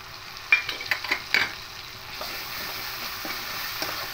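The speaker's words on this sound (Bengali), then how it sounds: "এবার গ্রেট করা একটা পেঁয়াজ রেখেছিলাম, পেঁয়াজটা দিয়ে দেবো।" Grated onion hits a hot pan and is stirred: a few sharp scrapes and clatters early on, then a steady, moderately loud sizzle of frying that carries on evenly without any talking.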